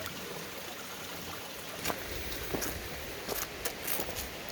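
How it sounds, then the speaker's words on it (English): A small creek flows beside a forest trail near a bridge crossing on the Wilson River, giving a steady, soft wash of water with a few brief splashes and footsteps mixed in. "Small creek coming in here."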